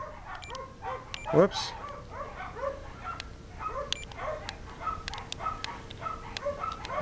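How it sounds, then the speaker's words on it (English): Dogs bark and yip repeatedly at moderate distance in a home while someone talks over them and an electronic whistle-like tone sounds. "And the dogs are barking."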